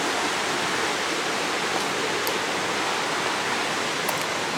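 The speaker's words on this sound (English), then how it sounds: "I hope you can hear the sound of the waterfalls." Garden waterfalls at Fallbrook's Grand Traditions in spring bloom: a steady, full broadband rush of falling water, close and constant, with no talk.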